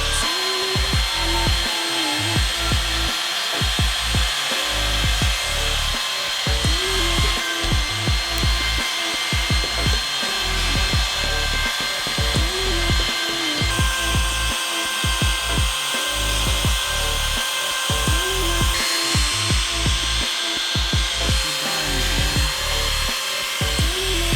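A Shapeoko CNC machine mills material with a loud, continuous grinding whine, its cutting tone pulsing in a steady repeating rhythm close by, with no voices over it.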